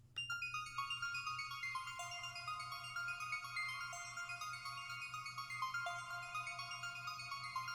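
A bright synth arpeggio rises and falls in quick, evenly spaced notes with chime-like overtones over a low steady hum. It plays on its own at a fairly quiet level.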